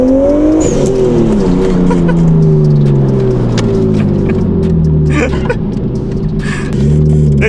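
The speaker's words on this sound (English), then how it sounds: "What a sound, guys. What a sound. It's got little burbles as well." A Nissan Skyline R34 fitted with a titanium exhaust revs loudly up close, its deep rising engine note dropping back into crackling burbles before a final blip near the end.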